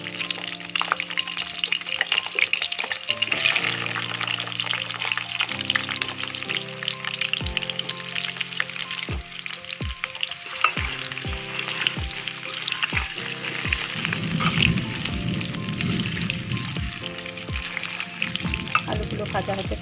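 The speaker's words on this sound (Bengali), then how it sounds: "এবার আমি আলুগুলোকে একটু ভালো করে ভেজে নেব।" Potatoes frying in a pan over low gas, with steady close sizzling throughout and occasional stirring knocks and clinks of utensils against the pan.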